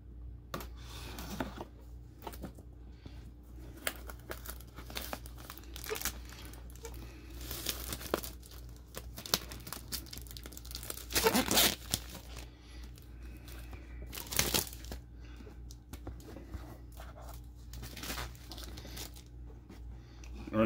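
Packaging of a Seagate 8 TB Game Drive Hub box being unwrapped and torn open, with intermittent crinkling, ripping and rustling bursts up close over a quiet background and no speech.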